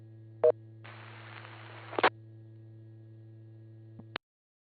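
Over an amateur radio repeater net, a radio sends short electronic touch-tone bursts at the start of a transmission, with a steady carrier hum underneath, a hissing stretch of noise, then a clipped tone as the carrier drops.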